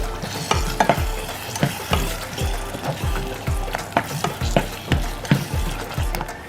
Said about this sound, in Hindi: थोड़ा मिक्स करेंगे तो चंगी तरह मसाले से घुल मिल जाए तो पकाएंगे